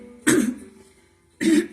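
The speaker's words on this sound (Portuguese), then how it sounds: "Ainda estou com um pigarrinho." A person clears their throat twice, two short raspy bursts about a second apart with quiet between them, close to the microphone.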